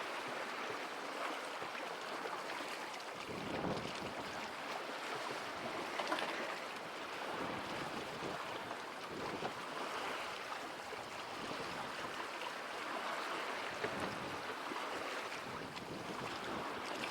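A sailboat cruising across open water, with a steady rush of wind and waves washing past throughout, wind buffeting the microphone at moments, and no voices.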